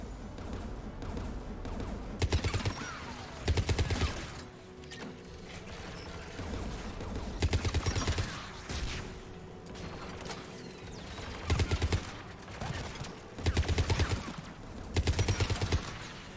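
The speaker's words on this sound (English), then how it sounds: "AA guns ahead of us." Anti-aircraft guns fire in Mass Effect 3, rattling out short mechanical bursts every couple of seconds over a low, steady background hum.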